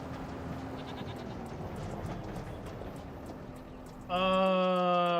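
Goats in the video game Farming Simulator 25: faint animal and ambient farm noise, then a single loud, close, wavering bleat bursting out near the end.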